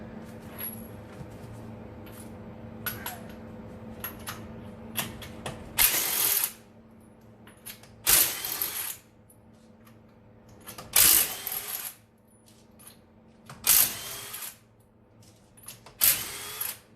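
An impact tool spins lug nuts off the wheels of an EVO 6 in repeated loud, close bursts of a few seconds each, separated by quieter clinking and handling in a garage.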